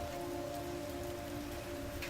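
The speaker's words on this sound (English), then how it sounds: "the rain was still hammering against the thin windows of the old farmhouse" Rain hammering against the thin windows of an old farmhouse, a steady dense patter with a low hum underneath, continuous and even throughout.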